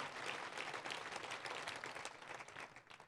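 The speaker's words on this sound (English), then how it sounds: "it is worth an applause" An audience at a charity breakfast event claps in a sustained, dense burst of applause that fades slightly toward the end, heard from a moderate distance.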